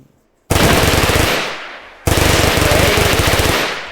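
A Tec-9 pistol firing in a video game gun mod, two loud rapid-fire bursts: the first rattles for about a second, then after a short pause a longer stream of quick shots, with no speech.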